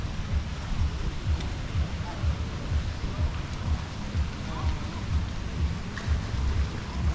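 Steady rain falls at The Waters hotel in Khao Lak, Thailand, a continuous broadband hiss with pattering drops and low rumbling, fairly close and constant throughout without pause.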